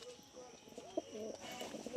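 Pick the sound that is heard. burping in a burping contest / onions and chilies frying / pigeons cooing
pigeons cooing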